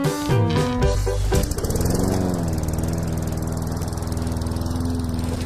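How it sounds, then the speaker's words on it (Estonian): A neighbour's lawn mower engine starts with a few sputtering pulls, then settles into a steady, droning buzz that runs continuously at moderate distance, with no voices. "Kuni naaber jälle oma muruniit ja käima paneb."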